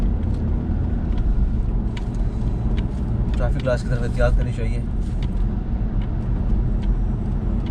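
A BMW 520d M Sport rounds a roundabout, heard from inside the cabin as a steady low engine and road rumble under someone talking throughout.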